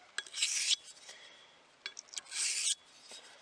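Sheffield straight razor blade rubbed on a fine abrasive sharpening surface under light pressure, two close rasping strokes with soft scraping between them.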